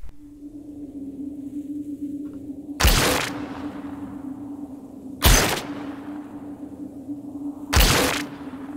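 Three loud sci-fi weapon gunshots ring out in a video game, evenly spaced about every two and a half seconds, each a sharp broadband blast with a decaying outdoor tail over a steady low hum.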